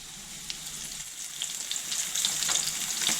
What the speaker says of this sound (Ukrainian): І так роблю з усією рибкою та буду обсмажувати з обох сторін золотавого кольору.